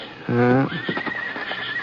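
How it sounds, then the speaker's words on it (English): A horse whinnies loudly in a stable, rich harmonic call lasting under half a second, then a voice talks over lighter background sounds. "There were only 3 or 4 horses out in front, and a couple of buggies."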